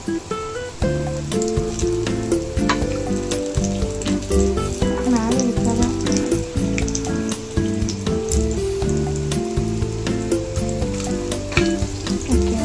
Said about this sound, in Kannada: ಒಣಗಿದ ಮೆಣಸಿನ್ಕಾಯಿ ಸ್ವಲ್ಪ ಫ್ರೈ ಆಗಲಿ